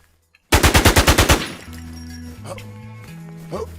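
Rapid burst of about nine loud gunshots from the Infestation video game, fired in quick succession, then cut off and followed by quieter electronic game tones and faint clicks.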